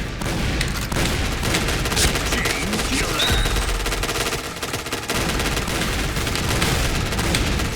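Gunfire in the Thai-played shooter Point Blank, dense continuous bursts of automatic fire running nearly the whole time at steady loudness, with a brief dip around the middle.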